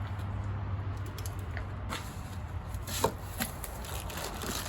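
A small key knife slices and scrapes open a package of a diesel heater kit, giving close, quiet cutting and rustling sounds with a few sharp snaps.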